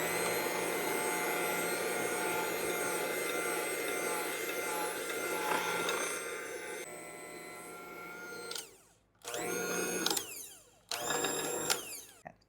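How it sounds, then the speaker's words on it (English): Zucchini bread batter with sour cream being mixed, a steady whirring motor drone for about eight seconds that then cuts out and restarts in two short bursts. "now we are going to mix this all up"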